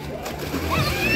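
Splashing in an outdoor village swimming pool with clean filtered water where girls and boys are bathing, a continuous wash of water sloshing and splatter, with voices mixed into the background.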